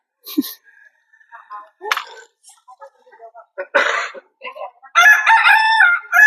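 A rooster crows loudly and close at Wat Umong temple in Chiang Mai, its calls coming in several bursts with clucks and short squawks between them, ending in one long, strong crow.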